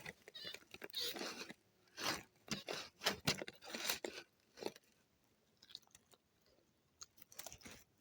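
An animal chewing on a leg, with wet biting and crunching bursts coming in irregular clusters up close, then fading to sparse small nibbles.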